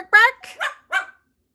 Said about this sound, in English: Can I get another bark?